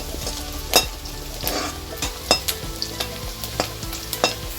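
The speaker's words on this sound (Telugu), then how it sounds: "ఇప్పుడు చిన్నగా కట్ చేసుకున్న పచ్చిమిర్చి వేసుకుంటున్నాం" Chopped green chillies drop into a hot pan of frying egg rice, giving a steady sizzle broken by several sharp stirring and scraping clicks of a utensil, close and moderately loud, with no talking.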